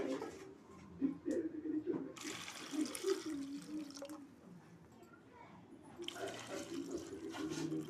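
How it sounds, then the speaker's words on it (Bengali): Water poured into a bowl of peeled hog plums, a splashing, running pour in two bursts near the start and again at the end, heard close up with a quieter pause between and a voice speaking in the background. "এবার এর মধ্যে দিয়ে দেবো জল"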